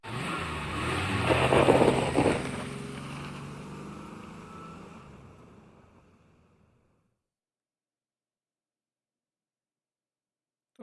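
A Formula Renault 3.5 race car engine in the iRacing simulator at Road Atlanta roars loudly, then fades away over several seconds into silence.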